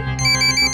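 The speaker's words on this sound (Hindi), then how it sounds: "दिलीप तुम्हारा फोन है।" A short electronic ringtone chirps in a quick repeating pattern, loud and close, cut off after less than a second.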